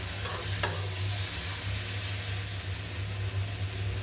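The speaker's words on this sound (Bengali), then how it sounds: "এখন মাছটাকে ভালো মতো একটু নেড়ে চেড়ে নিব" Rui fish pieces stirred into spice paste frying in a pan: a close, continuous sizzle with scraping stir strokes and a brief clatter near the start, loud and steady, alone with no voices.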